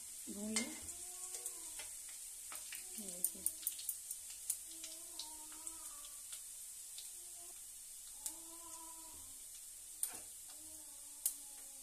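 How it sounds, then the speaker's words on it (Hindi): Garlic and dry spices frying in a pan for Punjabi-style sarson ka saag, a soft sizzle broken by scattered ticks and light clinks of stirring against the pan. "लहसुन को गोल्डन ब्राउन होने तक भून लें"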